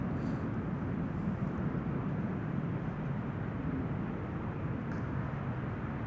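An airliner, registration PH-BVW, arriving at Amsterdam Schiphol Airport after an eleven-hour flight, heard as a steady, fairly distant broadband engine rumble that holds constant throughout, with no talking.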